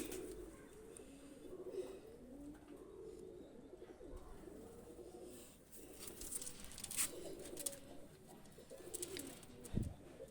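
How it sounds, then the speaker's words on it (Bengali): Pigeons, Pakistani high-flyer breed, cooing repeatedly in soft rolling phrases at close range, with faint rustling and a few clicks and wing sounds mixed in. "খুবই ভালো মানের একটা কবুতর নিজের তৈরি করা কবুতর"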